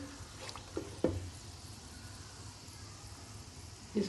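Semolina sizzles in browned syrup as it is stirred, a soft, even crackle with a few sharper scrapes and knocks.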